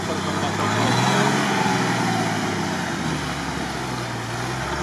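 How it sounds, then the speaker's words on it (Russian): A stock UAZ off-road car engine drones steadily at close range during off-road driving, its pitch shifting slowly, with people talking over it. "это машина, это не трактор"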